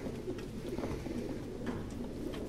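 Pigeons coo steadily in the video game Detroit: Become Human, a soft continuous murmur of overlapping calls with no talking.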